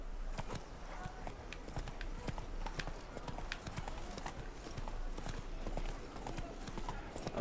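Horse hooves in The Witcher 3 video game clop in a steady, rapid rhythm of sharp strikes on the ground, continuous and fairly close, with faint game ambience underneath.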